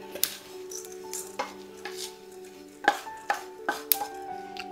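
Roasted seeds for date-and-fig dry fruit ladoo scraped from a pan into a small bowl: a string of sharp metallic clinks and scrapes of spoon on pan, spaced irregularly, close and fairly quiet, no talking.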